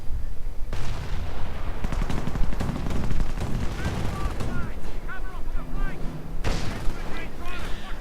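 Rapid bursts of anti-aircraft gunfire and explosions crackle through a busy strategy video game battle with US and Commonwealth army units, dense and continuous, with game effects and occasional talk layered in.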